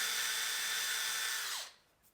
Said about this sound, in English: Pre-drill the holes again for the screws.